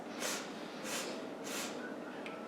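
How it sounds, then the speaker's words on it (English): Three quick, soft nasal sniffs spaced evenly about half a second apart during a breathing exercise in a children's yoga class, close and faint, followed by a brief exhale. "Take quick little sniffs."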